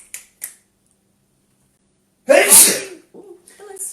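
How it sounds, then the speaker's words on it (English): A single loud, close sneeze bursts out after a couple of small clicks, followed by faint murmured speech as it fades. "Wait a sec, I've got to sneeze."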